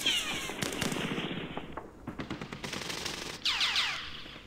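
Tank and gunfire shots in the war game Campaign Series Middle East: a burst of rapid shots, followed by a sharp blast whose tail fades, then a high ringing effect, all fairly loud.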